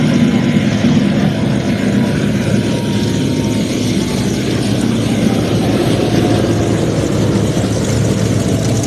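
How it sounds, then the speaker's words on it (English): Air-cooled radial piston aircraft engines drone at an airshow, a loud, steady, low rumbling roar that holds for nearly nine seconds with no talk over it. "These are radial piston engines, air-cooled."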